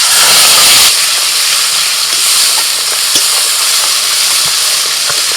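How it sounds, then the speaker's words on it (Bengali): Ginger, green chilli and tomato masala paste hits hot oil with a loud, steady sizzle and hiss. A brief burst at the start settles into continuous frying, with faint stirring clicks and no talk. "এবার একটা মশলা বাটা দিয়ে দিচ্ছি"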